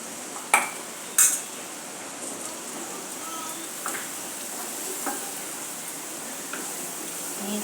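Onion, capsicum and corn sautéing in a pan for white sauce pasta: a steady soft sizzle throughout, with a few sharp utensil clinks near the start and light stirring scrapes later.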